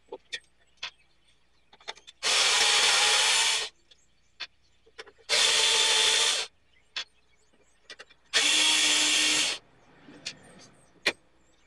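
Screws are backed out of the casing of a Quasar VR-1000 VCR, heard as three long, loud bursts of motorized driver whir, each lasting over a second, separated by small clicks and handling taps.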